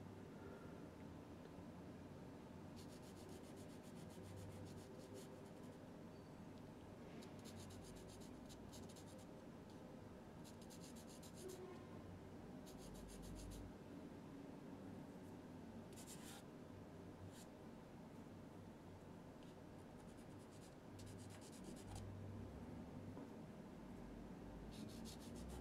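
Pencil strokes on paper while drawing a soft pastel portrait, a steady quiet scratching and rubbing with bursts of brisker hatching, continuous and close with no talking.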